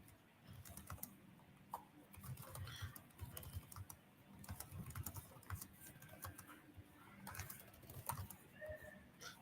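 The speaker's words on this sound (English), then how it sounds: "I hope you see me typing." Computer keyboard keys are tapped in quick irregular bursts, fairly faint and close, with brief pauses between runs of typing and no talk.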